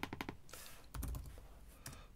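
Quick clusters of computer keyboard keystrokes, close and fairly quiet, in short bursts with brief pauses between them, no voices present.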